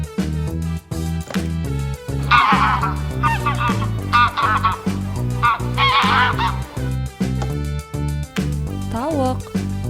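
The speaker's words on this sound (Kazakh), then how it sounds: "goose" A domestic goose gives a few loud, nasal honks in short bursts over a bouncy, rhythmic music backing track that plays throughout.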